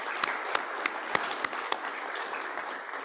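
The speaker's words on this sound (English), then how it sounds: "Let's give him a round of applause for that." Scattered applause at a Raleigh Kiwanis club meeting, a few distinct sharp claps standing out over a soft, continuing patter of hands that tapers off toward the end.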